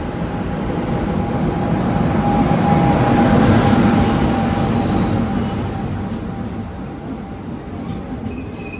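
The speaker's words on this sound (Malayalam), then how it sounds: "ഈ വരുന്നത് നമുക്ക് പോയ ട്രെയിനല്ല" A train rumbles steadily past at a station with a low continuous roar and a faint high whine, swelling midway then easing, no voices.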